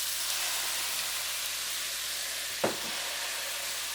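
Cooking sherry hitting simmering tomato sauce in a pan for tofu and eggs, a steady close hiss and sizzle throughout with one brief splash partway through.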